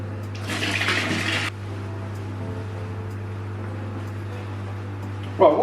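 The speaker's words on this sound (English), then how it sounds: "let's add some water into this bucket." Water gushes into a bucket beside a 2000-litre aquarium for about a second, a loud close pouring rush that stops abruptly, over a steady low hum, with a brief clatter at the end.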